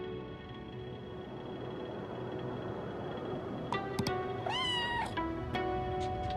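Several clear cat meows from a character in the video game Nobody Knows for Certain, rising and falling in pitch over a steady ambient music bed, arriving in quick succession near the end.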